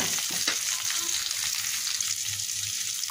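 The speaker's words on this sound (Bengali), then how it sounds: "এখানে এই যে আমি চিংড়ি মাছ দিয়ে পেঁয়াজ ভেজে নিচ্ছি" Sliced onion and shrimp fry in hot oil in a home kitchen pan, a loud steady sizzle with occasional stirring, heard alone without talk.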